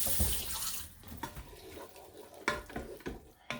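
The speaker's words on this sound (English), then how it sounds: "Gonna rinse off the back of that." Water runs from a tap and splashes as something is rinsed off in a kitchen while cooking sloppy joe, with a few knocks and clatters nearby and no talking.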